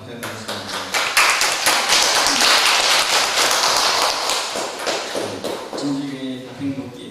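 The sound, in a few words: audience applause in church service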